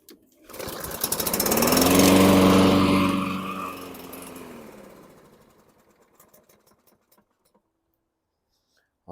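A 2016 Husqvarna AWD lawn mower with a fuel starvation fault fires up, its engine roaring loudly for a few seconds before dying away into quiet, with a few faint knocks afterward.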